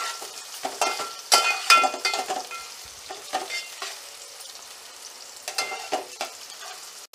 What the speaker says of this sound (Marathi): आता आपण फोडणीसाठी कांदा टाकून घेऊयात आणि कांदा छानपैकी शॅलो फ्राय करून घेऊयात